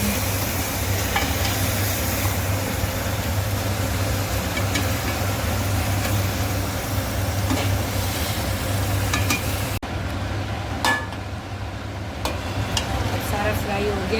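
Chicken with onion, garlic and ginger fries in a pan for chicken karahi, a continuous dense sizzle with occasional stirring scrapes and clicks, close and steady, with no talk over it.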